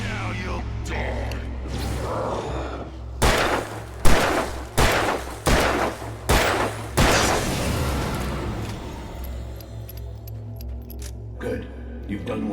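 Gunshots ring out in Alan Wake Remastered, a rapid string of six or seven loud, sharp cracks spaced under a second apart, followed by lingering rumbling ambience and faint scattered clicks.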